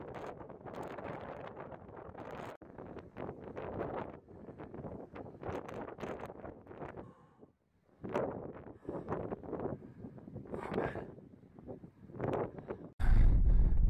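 Strong gusting wind on top of a coal mining spoil heap in northern France, buffeting the microphone in uneven rough bursts with a brief lull midway and a loud blast at the end.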